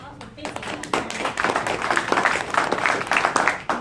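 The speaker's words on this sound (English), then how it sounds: "let's give Connie a hand for the applause" Audience applause for the presenter Connie at a talk, a steady wash of many hands clapping that swells after a quiet start and carries on throughout, close and fairly loud.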